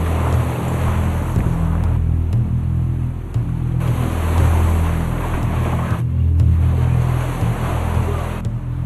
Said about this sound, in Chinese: 不用狂风暴雨，大浪一波波冲进岸边的住家。